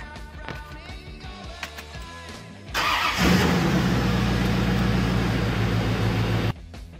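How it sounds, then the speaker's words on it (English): A Corvette engine idling while it warms up, with clicks and shop noises before the car starts. Then a loud, steady mid-range engine rumble holds close to the microphone before cutting off abruptly near the end. "let the car warm up"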